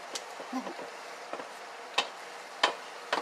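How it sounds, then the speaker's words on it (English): Ground meat browning in a pan for a sloppy joe casserole gives a faint, soft sizzle, broken by a few sharp ticks and scrapes of stirring. "Okay, so my meat's browning."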